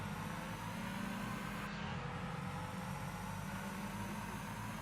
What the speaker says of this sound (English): The noise of this car is just so wrong. It just sounds like a two-stroke moped or something.